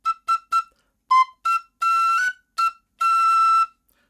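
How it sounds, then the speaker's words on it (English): Tin whistle playing a phrase of Morrison's Jig, notes cut short by the tongue stopping the end of the whistle, giving a clipped tut-tut-tut rhythm of three quick notes, then separated short and sustained bright tones, close and clear. "I'm stopping the end of the whistle off with my tongue to make that tut tut tut sound."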